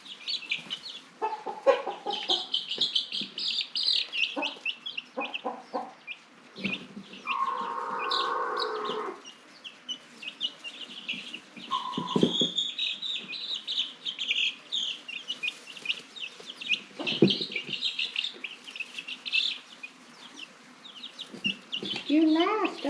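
Chickens and a rooster on a farm cluck and chirp in short bursts with some longer calls, close by, while a person talks softly among them.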